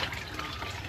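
Water from a hand pump trickles out in a thin, steady stream, a soft continuous splashing and gurgling heard close up with no talk over it.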